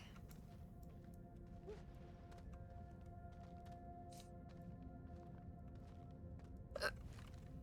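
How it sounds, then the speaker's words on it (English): A person hiccups while playing Astroneer: several sharp, brief hiccups spread through the stretch, the loudest near the end, over a steady low game hum and faint tones. "I got the hiccups again"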